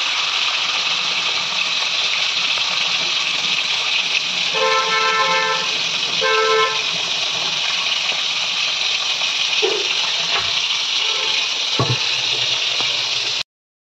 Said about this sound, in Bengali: এপাশে পটলটা ভাজা হচ্ছে